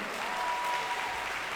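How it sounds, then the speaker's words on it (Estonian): Concert audience applauding warmly for a band with drums, double bass and piano, a steady dense clatter of clapping throughout. "Tehkem palun suur aplaus."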